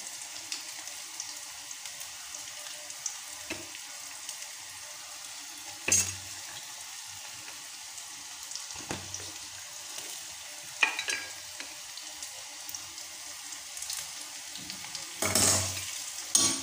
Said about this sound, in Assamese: এতিয়া মই ৰঙা হোৱালৈকে পিঁয়াজখিনি ভাজিছোঁ